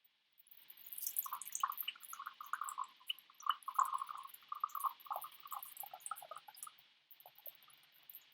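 Water pours into a container in a steady, bubbling trickle lasting several seconds, quiet and close, with no talking.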